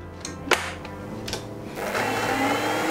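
An electric hand mixer gently beats a cream cheese mixture with crushed Oreo cookies, a steady close whirring drone with a couple of brief clanks early on and the motor running continuously throughout.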